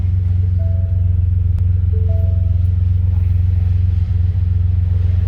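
A 2015 Ford F-150 pickup with the 3.5 EcoBoost engine runs at a steady idle, a loud, continuous low rumble close by with a few faint tonal chirps above it.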